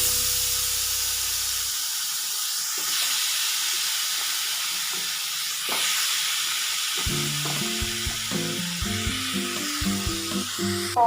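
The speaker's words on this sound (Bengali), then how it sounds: "কম আঁচে নারকেল এবার ভালো করে ভেজে নেব" Grated coconut frying on low heat in a wok: a soft, continuous sizzle and hiss, joined later by faint scraping and stirring knocks.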